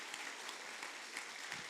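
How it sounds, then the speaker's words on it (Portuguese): A church congregation applauds performers after an Easter cantata, a steady wash of many hands clapping, fairly quiet and distant, with no voices over it. "Uma salva de palmas para essa turma maravilhosa."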